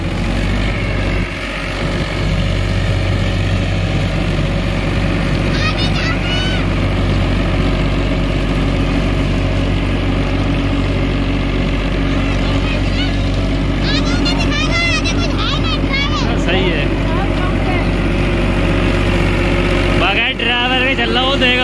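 Powertrac 55 HP tractor running with a rotary tiller, a loud steady low engine drone throughout the field work, close by, with people talking over it at times.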